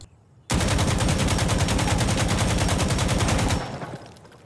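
An AKM rifle with a foregrip fires one long full-auto burst in Insurgency Sandstorm, a loud, rapid, evenly spaced stream of close shots that starts abruptly and runs about three seconds before cutting off into a short decaying tail.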